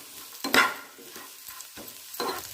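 Ginger, garlic and green chillies frying for mutton sambar sizzle softly while a spatula stirs and scrapes the pan in a few distinct sweeps, close by and moderately loud.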